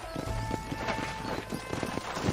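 Horses clip-clop in Red Dead Redemption, a steady run of hoofbeats close by with a low rumble of movement underneath and no talk over them.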